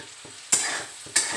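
Bitter gourd (karela) frying in a pan gives a soft sizzle broken by two sharp scraping stirs, close and brief.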